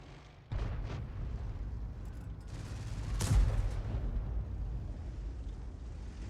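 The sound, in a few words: tank cannon fire in World of Tanks video game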